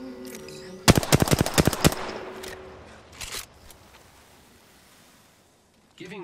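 Rapid burst of automatic gunfire in Apex Legends, about eight sharp shots in quick succession, loud and close, followed by a couple of fainter distant shots and game ambience.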